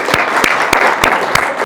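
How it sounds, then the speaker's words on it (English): Audience at a client event applauds, a steady patter of clapping with a few louder sharp claps standing out nearby, stopping abruptly at the end. "We should give her a round of applause"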